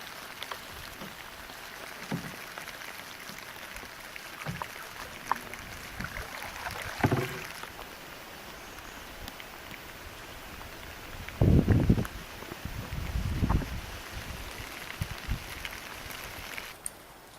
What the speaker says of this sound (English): It's raining really hard. We're in the middle of a river,